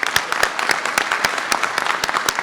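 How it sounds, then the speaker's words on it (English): Applause for city ambassadors in pink jackets at a mayoral press event, a smaller group clapping in close, distinct, uneven claps that carry on steadily for a couple of seconds without speech. "I want to ask for another round of applause for them."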